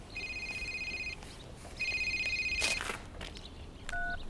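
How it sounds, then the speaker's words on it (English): A telephone rings in two long electronic trills separated by a pause, followed by a short two-tone beep near the end, heard indoors and fairly quiet. "You must start answering your phone, Eric."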